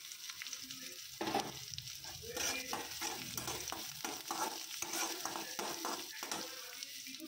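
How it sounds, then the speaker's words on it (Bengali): Spices and onion fry in oil in a pan for a Bengali lau-leaf bharta, a steady close sizzle broken by repeated scraping stirs of a spoon against the pan. "সবগুলো মশলা আমি একসঙ্গে ভেজে নেব।"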